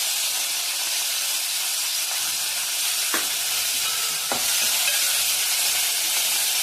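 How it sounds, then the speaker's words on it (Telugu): Garlic and curry leaves fry steadily in a pan with a continuous close sizzle and hiss, broken by a couple of sharp clicks of a spoon stirring, with no voices. "వెల్లుల్లి ఫ్రై అయ్యాక కరివేపాకు వేసుకోవాలండి."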